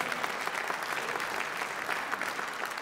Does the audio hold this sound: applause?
yes